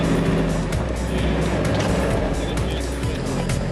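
Steady, loud motor drone of a winch pulling up the back end of a Nissan Patrol 4x4 during recovery, a continuous low rumble with no breaks.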